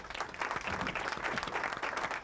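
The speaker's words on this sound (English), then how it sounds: "Give a big round of applause" A brief burst of dense clapping, fairly loud and steady for about two seconds, with a faint murmur of voices underneath.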